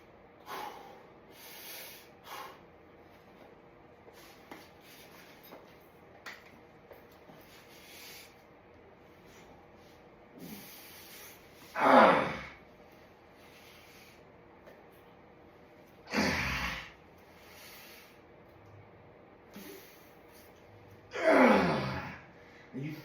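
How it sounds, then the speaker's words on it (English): Deep breaths during a resistance band chest press, three strong forceful exhales spaced several seconds apart, close to the mic over a quiet room with faint rustling. "Let me take a deep breath."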